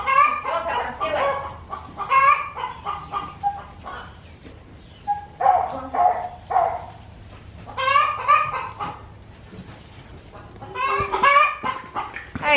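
Farm chickens clucking and squawking in repeated bursts close by during morning chores, with a dog's barks mixed in and quiet pauses between outbursts.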